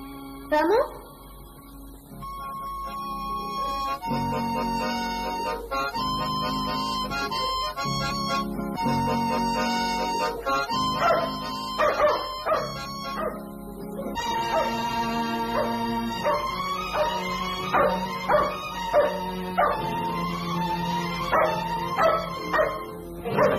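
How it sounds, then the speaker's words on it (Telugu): A dog barks and yips repeatedly, with whimpering notes mixed in over a steady tonal background, fairly loud and near. "ఏమిట్రా కుక్కరుస్తుంది"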